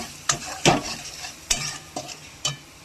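Chili powder masala is stirred and fried in a pan with an egg, a soft sizzle broken by five distinct spatula scrapes and knocks against the metal, close and unhurried.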